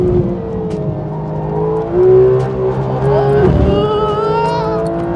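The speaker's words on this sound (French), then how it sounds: "Ça drift." A Porsche GT3 RS drifts on a race circuit, its engine note rising and falling with a brief surge of revs and a tire squeal, heard from inside the car as people talk over it.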